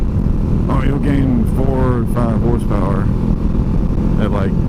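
A motorcycle fitted with a Delkevic SS70 slip-on exhaust lugs at low revs, a steady low rumbling burble with rising and falling tones, heard close under someone talking throughout.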